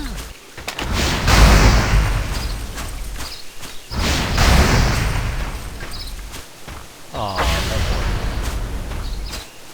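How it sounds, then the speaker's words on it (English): Explosions in the online game TERA come as three heavy, booming blasts, each followed by a rumbling tail, spaced a few seconds apart and loud against a background of game sounds. "Bam! We've got explosives! Kaboom!"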